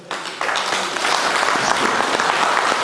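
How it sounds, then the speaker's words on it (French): Applause from an audience at a book launch in the Democratic Republic of Congo, dense, steady clapping that starts abruptly and continues evenly throughout. "Applaudir le parrain de l'ouvrage."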